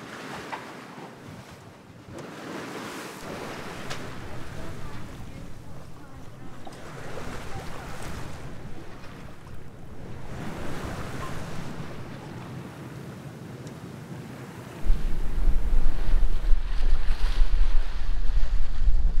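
A sailing boat moves through waves in a westerly current, with a steady wash of water and wind buffeting under faint talk, until a heavy gust of wind noise hits the microphone near the end.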